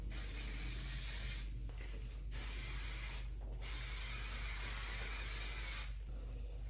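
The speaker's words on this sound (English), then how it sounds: "spray with my hairspray" Several bursts of aerosol hairspray hiss close up, separated by brief pauses, with no talking.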